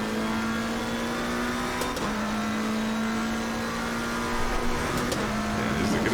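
Lamborghini race car engine in a sim racing game, a steady high-revving drone held throughout with brief shifts near two and five seconds, loud and continuous with no talk.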